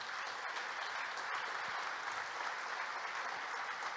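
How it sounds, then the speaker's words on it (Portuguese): Church congregation applauding during a service, a dense, even wash of many hands clapping that sustains steadily throughout, fairly distant and filling the room. "Então aplauda o Rei dos Reis para valer."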